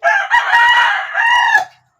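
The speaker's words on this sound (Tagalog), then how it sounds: "Talagang sunod-sunod ang tilaok na manok ba?" A rooster crows loudly and close by, one long drawn-out call rising and then falling away into silence.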